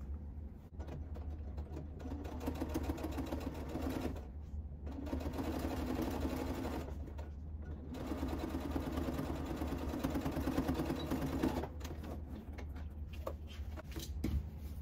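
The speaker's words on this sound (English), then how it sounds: "I'll be sewing 1/2 inch downwards from the top on both sides." A sewing machine stitches a half-inch seam on a fabric origami bag, a steady motor whir with a fast needle hum in runs of several seconds, separated by brief pauses.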